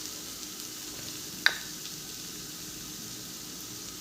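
Potato and green pea curry sizzles softly and steadily in a pan, a faint even hiss broken by one brief clink of a utensil.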